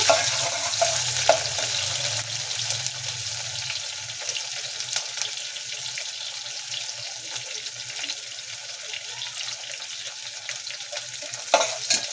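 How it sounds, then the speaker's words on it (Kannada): Onion frying in a pan for Kannada-style tomato thokku pickle, a steady broadband sizzle with some watery, tap-like hiss, loud at the start and settling to an even crackle, with a sharp clatter near the end; no one speaks. "ಈರುಳ್ಳಿ ಎಲ್ಲ ಚೆನ್ನಾಗಿ ಫ್ರೈ ಆಗಿದೆ"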